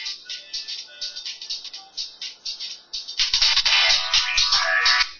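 An incoming call sets off a smartphone ringtone as a quick, repeating high electronic tone pattern, fairly soft at first and then suddenly louder with some handling rattle.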